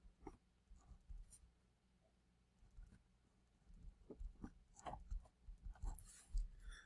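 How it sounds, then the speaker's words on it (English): Pen writing on paper beneath a document camera: quiet, close scratching strokes in short irregular bursts with brief pauses, faint and intimate, without any talking. "I'm going to write out all 3 of these on my document camera"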